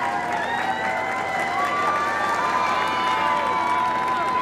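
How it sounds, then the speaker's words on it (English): A crowd of over 1,000 at a Hanukkah rally in Los Angeles cheers and applauds continuously, with whoops and shouts mixed into a dense, sustained roar. "give a resounding, incredible round of applause"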